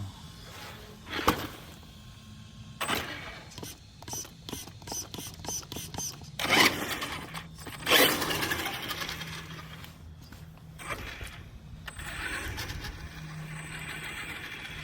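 A brand-new 35 kg servo in a toy-grade RC car buzzes and whirs in short mechanical bursts with clicks and ratcheting, fairly faint and close, with no talk.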